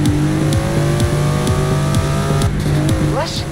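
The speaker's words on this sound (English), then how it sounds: "Never heard a Datsun sound like that, have you?" A modified Datsun car in Forza Horizon, its engine revving hard through repeated gear shifts, each upshift dropping the pitch before it climbs again, loud and close with a brief tire squeal near the end.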